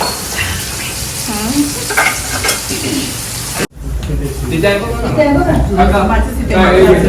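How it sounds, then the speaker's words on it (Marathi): Fish sizzles steadily in a frying pan at close range, with clatter and stirring, and people talk over it throughout. "तेजल इथे मच्छी तळते."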